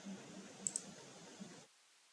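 A couple of quick, faint computer mouse clicks over a quiet room hiss while drafting in AutoCAD, closely spaced and then followed by silence.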